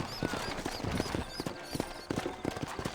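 Horse hooves clip-clop at a steady walking pace in a Red Dead Redemption town scene in New Austin, a repeated close, distinct rhythm of sharp knocks over faint ambient background.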